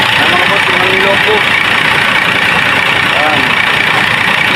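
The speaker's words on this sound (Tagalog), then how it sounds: "Yung makina ni Lokbo mga boss." A jeepney engine idles in a continuous loud rumble, heard close by with a dense steady drone and faint overlapping voices beneath it.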